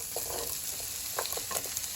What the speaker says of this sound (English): So let's saute the onion first.